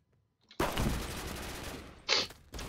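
BFG 50 sniper rifle shot in the shooter game Phantom Forces, heard as a sudden loud blast whose long rumbling tail fades, followed by a second sharp crack and another burst of gunfire, with no voices.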